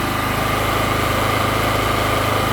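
A portable generator engine runs steadily at close range, a constant mechanical drone with a faint vibrating hum and no pauses.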